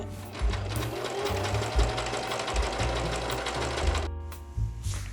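Sewing machine stitching a fabric flap for a shirred summer top, a rapid steady mechanical chatter of the needle running for about four seconds, close and clear, then stopping.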